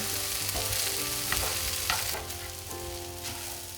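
Egg fried rice with dark soy sauce sizzles steadily in a hot pan as it is stirred, a dense, continuous frying hiss with soft scraping strokes, close and fairly loud, with no talking.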